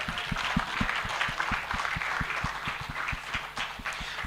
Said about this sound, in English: A round of applause for Hako Industries Limited.